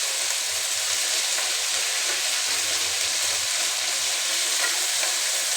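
Potatoes hit a pan of sizzling fenugreek greens fried with roasted dry fenugreek seeds and a five-spice tempering. The frying hisses loud, close and steady throughout, with faint stirring under it.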